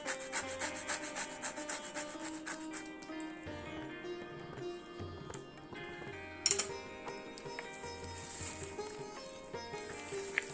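Orange zest is grated for a carrot cake with a run of close, rhythmic rasping strokes. A soft tonal backing plays underneath, and a sharper scrape stands out midway.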